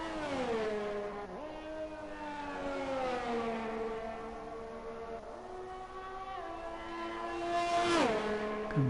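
A Formula 1 car in an F1 racing game at the Australia circuit screams at high revs, with a series of rapid downshifts dropping the engine pitch in stepped blips before it climbs again, loud and close throughout.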